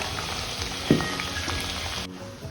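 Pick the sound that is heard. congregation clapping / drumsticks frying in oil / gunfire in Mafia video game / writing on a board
drumsticks frying in oil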